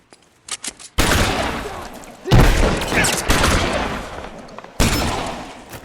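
Heavy gunfire in an L.A. Noire mansion shootout: rapid volleys of close, loud shots start after a few brief sharp cracks and continue almost unbroken, with a harder burst midway and another after a short gap.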